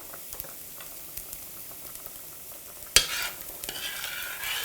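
Tofu fries and is stirred in a pan on a hob while spring onions cook alongside. A steady close sizzle carries light scraping, and a sharp clack near the end brings a brighter, louder burst of frying.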